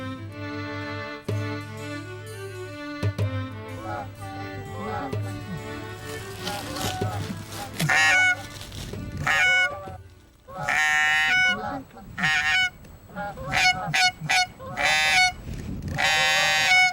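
Geese in Labrador honk in a loud, close flock, their overlapping nasal calls coming in clustered bursts that grow denser and more insistent toward the end.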